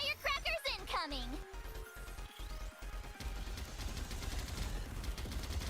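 Rapid gunfire in the NIKKE shooter game, a dense string of sharp bursts over about five seconds mixed with game effects and music, with a person talking over it.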